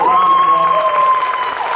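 A Comic Con Q&A audience applauds and cheers loudly throughout, with a sustained tonal whistle or shout riding over the crowd.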